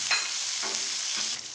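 Chopped garlic and capsicum sizzle loudly in hot oil, with three soft scraping stirs spaced about half a second apart over a continuous hiss.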